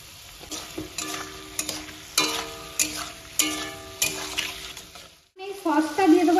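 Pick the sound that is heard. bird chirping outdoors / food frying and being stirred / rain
food frying and being stirred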